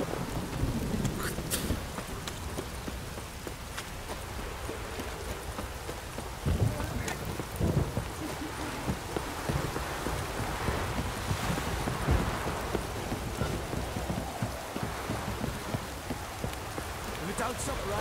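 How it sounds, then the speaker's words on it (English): A dense, constant video game downpour with occasional deep thunder rumbles and irregular clattering hits, loud and close throughout. "If it don't stop raining, my arse will rot off."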